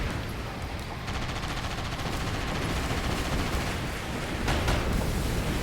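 Rockets and rapid gunfire fill a Sand Land video game battle, a dense, continuous barrage of shots and blasts that stays loud throughout and swells near the end.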